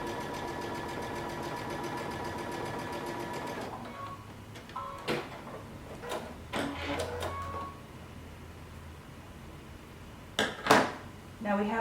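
A sewing machine runs steadily for the first few seconds, stitching near the edge of a folded fabric strip for a cape loop, then stops, followed by scattered handling clicks and rustles.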